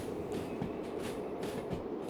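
A train in the railway simulation game Derail Valley runs with a steady rumble and faint rail clatter, heard close and alone.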